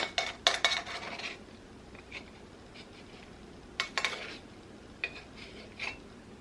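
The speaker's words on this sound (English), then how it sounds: "we're gonna just mix that together" Flour and baking powder being mixed into a thick pound cake batter, a spoon or whisk clinking against the bowl in a few quick bursts, with quiet gaps between strokes.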